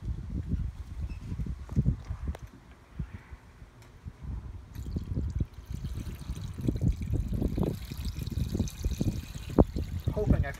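Antifreeze glugs and trickles from a jug into a car radiator on a Maxima GLE, a close, uneven low gurgling pour lasting several seconds with no speech over it.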